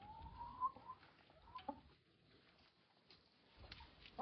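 A hen on a farm clucks softly, with a few faint, scattered calls over quiet background noise and no speech.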